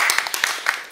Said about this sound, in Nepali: मलाई जोरदार ताली